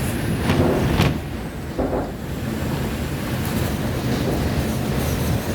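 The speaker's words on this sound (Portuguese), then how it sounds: "Olha o vento na água" Strong storm wind gusting over open water in central Porto Alegre, a loud roaring rush with surging gusts and wind buffeting the microphone, broadband and continuous.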